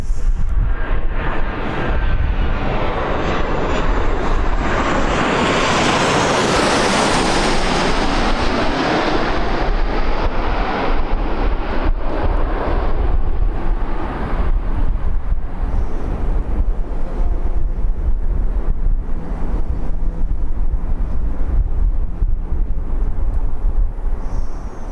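A Ryanair aircraft lands at Birmingham Airport, its loud jet roar building and sweeping past, then settling into a steady rumble under heavy wind buffeting on the microphone.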